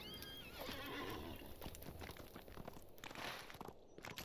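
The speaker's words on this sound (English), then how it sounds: "Let me get on the war steed and move on." A war steed in the Lord of the Rings Online video game whinnies loudly and close, then its hooves clop in a steady walking rhythm, with faint crunching underneath and no talking.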